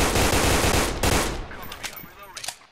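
Rapid gunfire in a video game, loud bursts of shooting crowding the first second or so, then fading into scattered, quieter shots and echoing pops.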